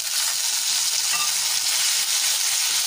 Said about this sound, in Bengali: কারি পাতা দিয়ে দিলাম, একটু ভাজা ভাজা করে নেবো।